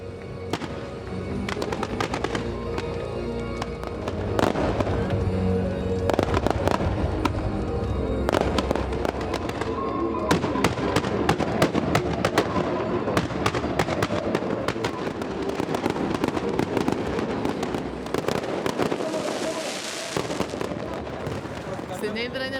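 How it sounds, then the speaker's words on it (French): Fireworks crackle and pop continuously over Hydra island during a festival marking a Greek independence battle, dense sharp bursts layered with rumbling booms, loud and sustained, with people talking faintly in the background. "Et pour les Hydriotes, ça vaut bien un feu d'artifice."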